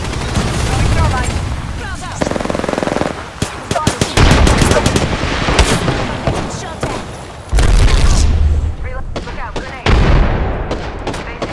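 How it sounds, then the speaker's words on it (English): A thermite grenade goes off amid a video game firefight, buried in dense, continuous bursts of automatic gunfire and booms, with players talking over the chaos. "Throwing thermite"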